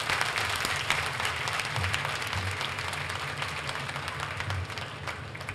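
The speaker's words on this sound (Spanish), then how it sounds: "Y desde el Pedregal aplaudimos a los girasoles también." Crowd applause at the inauguration of a public park, a dense, steady wash of many hands clapping heard from some distance, faint and continuous with no voices over it.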